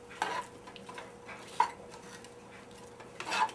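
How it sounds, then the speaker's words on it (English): Bacon and apple fry quietly in a pan for a savoury oatmeal breakfast, a low sizzle beneath several distinct clinks and scrapes of a utensil against the pan. "So let's move over and fry this up."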